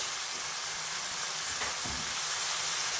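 Spices fry in a pan, giving off a steady, loud, even sizzle with a faint stir partway through and no talking.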